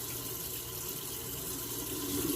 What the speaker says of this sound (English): This is a thick soap, so it's taking me a moment to rinse.